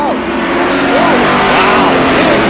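Race cars roar around an oval track, engines whining loud and continuous with rising and falling pitch sweeps as cars pass, while a commentator talks over the din.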